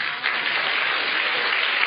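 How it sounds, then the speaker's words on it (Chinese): An audience at a church Bible lecture claps together in steady, close applause that lasts throughout without any talking. "俾掌声好唔"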